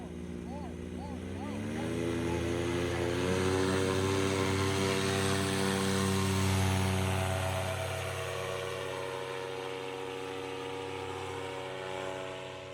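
Paramotor engine at takeoff, a steady droning propeller roar that rises in pitch over the first few seconds, then holds loud and even before easing slightly, with a brief voice near the start.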